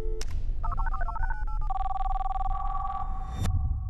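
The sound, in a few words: telephone ringing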